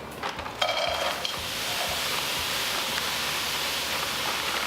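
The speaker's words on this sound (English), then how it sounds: "we have another pan here, a nice hot pan heating up, and we're going to just throw our frozen veggies in here" Frozen vegetables tossed into a hot pan, opening with a sharp clatter and burst of hissing that settles into a loud, continuous sizzle with no talking.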